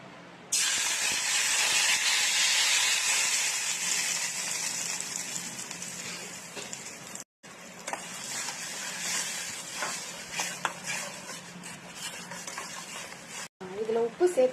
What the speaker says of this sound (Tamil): இதை நம்ம வந்து இந்த எண்ணெயில் சேர்த்து வதக்கிக்கலாம்.